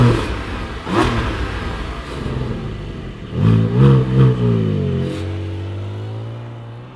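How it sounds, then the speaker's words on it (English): Flat-six engine of a 2025 Porsche 718 Cayman GTS 4.0 starting with a loud catch, then blipped several times in quick revs before settling into a steady, burbling idle, heard up close. "Let's fire up this flat 6 in the Cayman GTS and hear what it sounds like."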